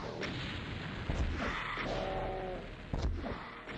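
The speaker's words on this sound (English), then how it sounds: "here I am, using rockets against lost souls" Rocket launcher blasts in Doom, Map 07 Goetia, fired at lost souls: two heavy booming impacts about two seconds apart over a steady rumbling game-ambience bed, with a brief hissing whoosh between them.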